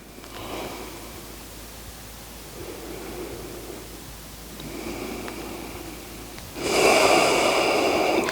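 Slow, deep breaths during a quiet yoga pause, soft airy inhales and exhales rising and falling in waves, growing louder and rougher toward the end, with no talking.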